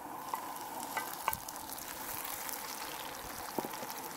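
Onion fries quietly in a cast iron skillet, a soft steady sizzle broken by a few sharp scrapes of stirring.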